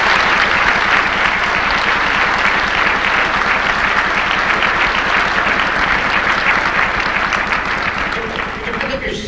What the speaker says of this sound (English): do we have one more round of applause for the music?